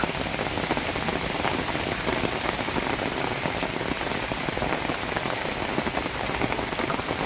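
Steady rain falling on surfaces, a dense continuous patter with no talking, even and fairly loud throughout.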